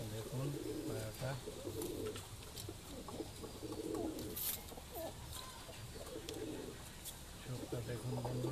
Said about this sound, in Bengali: এই একটা ম্যাড্রাস পায়রা আছে, খুব সুন্দর কোয়ালিটি।